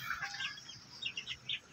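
Native hens close to laying age cluck in short, bright bursts at a steady pace, fairly close and moderately loud, with no talking.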